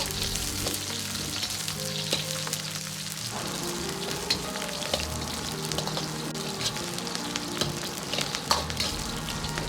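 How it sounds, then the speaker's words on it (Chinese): Scallion, ginger and garlic hit hot vegetable oil in a smoking wok, giving a continuous close sizzle and crackle with occasional stirring clinks, heard alone without speech. "油热后先下入葱姜蒜，用上出香味。"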